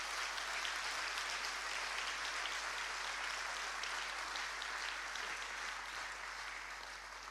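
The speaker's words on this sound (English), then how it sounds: "So can we have one last round of applause for our Cabinet Secretaries?" Conference audience at a political party spring conference giving a round of applause, dense sustained clapping filling the room throughout before easing slightly at the end.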